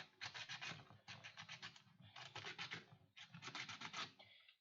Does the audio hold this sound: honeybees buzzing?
no